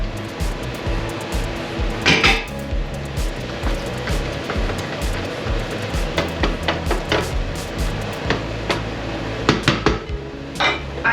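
Shrimp, ham and mushrooms are stirred and sautéed in a pan. A spatula clinks and scrapes against the metal in irregular knocks over a low, steady kitchen background.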